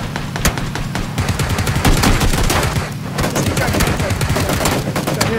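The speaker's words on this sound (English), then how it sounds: "Shooting." Sustained automatic gunfire in PlayerUnknown's Battlegrounds, dense rapid bursts of shots close and loud for several seconds with little pause.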